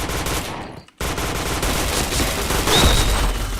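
Rapid, dense gunfire from a shooter video game rattles nonstop and loud, broken by one short gap before the bursts resume.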